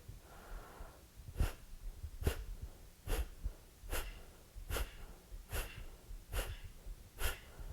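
Rhythmic sharp exhalations during a yoga core exercise, seven quick forceful breaths evenly spaced under a second apart, close and moderately loud with a soft breathy hiss between.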